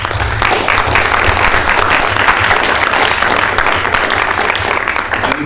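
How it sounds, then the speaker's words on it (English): An audience at a student government meeting claps for the Finance Committee, giving a full, loud round of applause that holds evenly for several seconds with no talking. "So if we could give them a round of applause."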